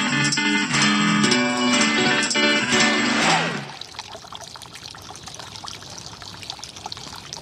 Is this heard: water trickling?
yes